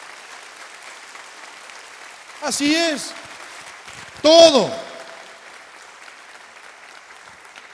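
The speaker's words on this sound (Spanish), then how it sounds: "Dale un fuerte aplauso al Señor" A church congregation applauds the Lord in a steady, moderate wash of clapping that runs under two short bursts of someone speaking.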